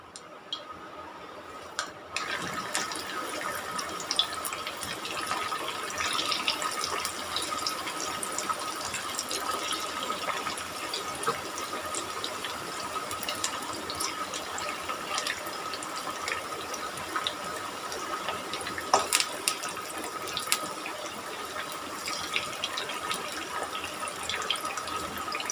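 Chicken pakoda pieces frying in hot oil over a low flame, a steady broad sizzle with scattered crackles and pops running throughout, close and even in level with no talking.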